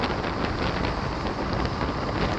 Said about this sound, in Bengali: হালকা ফুট বৃষ্টি পড়ছে এখানে।